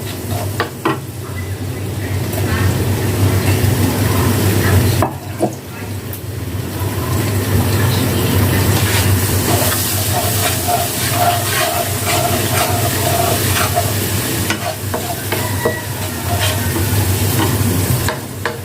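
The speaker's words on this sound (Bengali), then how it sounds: "তারপর আমার পিষে রাখা মশলাগুলি আমি তেলে ঢেলে দিলাম।" Ground spice paste frying in hot soybean oil for a beef khichuri, a loud close hissing sizzle with stirring scrapes, briefly dipping after a few seconds then continuing steadily.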